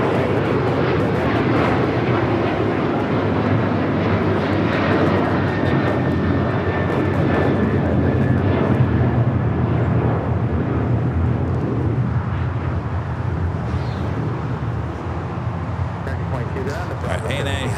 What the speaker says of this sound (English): Got another American 777 at number 2 for takeoff.